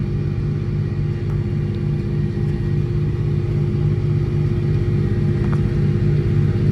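A tractor pulls a dammer diker across a field with its paddles turning. The engine gives a loud, steady, low rumble at close range with no talk.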